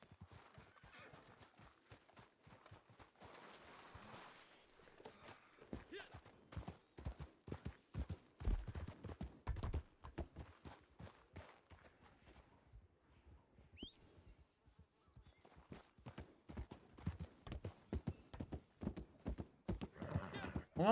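Rapid hoof clip-clops of a galloping horse with occasional whinnies, loud and steady, in the Red Dead Redemption Online game soundscape with no talking.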